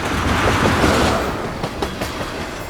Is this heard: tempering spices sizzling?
no